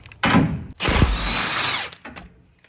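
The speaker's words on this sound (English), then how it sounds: "using an 18mm socket, I can now remove the bolt securing it to the frame" A power tool with an 18mm socket spins out a frame bolt on a Jeep Gladiator during a lift kit install, a short whirring burst followed by a longer sustained run that winds down, close up with no talking.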